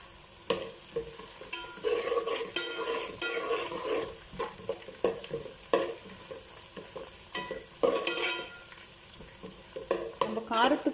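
Onions and seven to eight green chillies frying and being stirred in a pan for Chennai-style chicken biryani, giving a steady sizzle broken by repeated scraping clatters of the spoon, fairly close.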